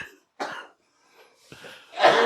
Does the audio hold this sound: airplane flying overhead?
no